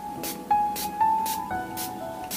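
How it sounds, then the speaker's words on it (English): Five quick, evenly spaced hissing sprays from a spray bottle, close and fairly soft, with a faint steady tone underneath. "I will spray some more water"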